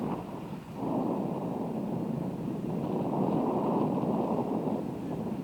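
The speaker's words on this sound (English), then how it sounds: "Look at that wind gusting." Gusty wind buffets the microphone outdoors on a disc golf course during a women's pro round at the Las Vegas Challenge, a steady loud rumbling roar that swells after a brief dip near the start, with no talk.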